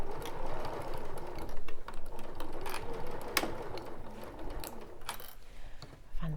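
A sewing machine stitching a beachcombing bag, a steady mechanical whir with rapid clicking needle strokes, close and continuous, with sharp ticks and short pauses along the way.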